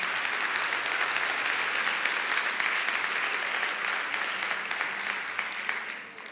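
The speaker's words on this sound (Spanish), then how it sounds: "De un aplauso porque necesito hidratarme." A church congregation applauds together in a sustained, fairly quiet wave of clapping that fades slightly at the end, with no talking over it.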